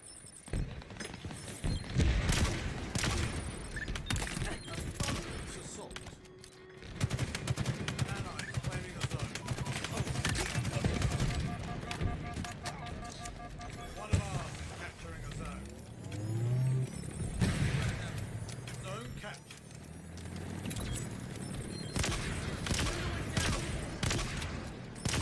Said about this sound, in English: I'm still hearing this guy have a sniper rifle.